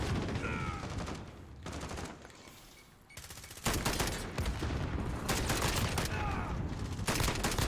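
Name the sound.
gunfire from the video game Rust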